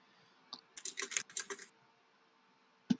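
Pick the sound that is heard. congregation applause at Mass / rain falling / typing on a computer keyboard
typing on a computer keyboard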